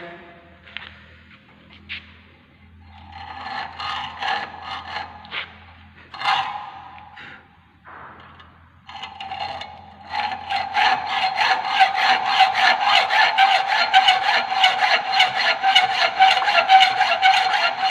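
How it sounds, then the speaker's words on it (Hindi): A hacksaw cuts mild steel clamped in a vise in a workshop, with a few hesitant rasping strokes at first, then a steady, rhythmic back-and-forth sawing that grows louder and close. "तो हेक्सो से हम लोग कटिंग कर रहे हैं।"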